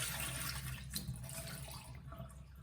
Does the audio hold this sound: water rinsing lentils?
yes